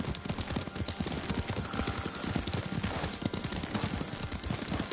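Horse hooves clop in a steady rhythm as a rider travels in the video game Ghost of Tsushima, a close, continuous beat of footfalls with light background sound.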